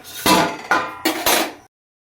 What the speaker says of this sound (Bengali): এরপর ঢাকনাটা খুলে দেখছি এটা সেদ্ধ হয়েছে কিনা